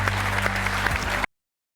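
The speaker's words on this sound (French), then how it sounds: "On applaudit" A studio audience applauds at a French TV show, a dense, steady wash of clapping close up that cuts off abruptly after about a second.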